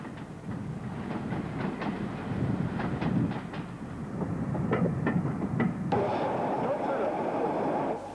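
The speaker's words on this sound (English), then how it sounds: "And a Class 47. Note the elderly Southern Region unit as it passes." A Class 47 diesel locomotive passes on British rail, a steady rumble with rhythmic wheel clicks over rail joints, a brighter whine near the end, and someone narrating over it.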